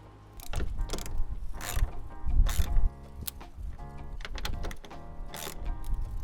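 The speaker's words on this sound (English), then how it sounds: "We're gonna tighten them all down." A ratchet tightening the bolts on a carbon fiber hood of a Hyundai Veloster N, rapid repeated clicking strokes in uneven bursts with short pauses, close and loud, no talking.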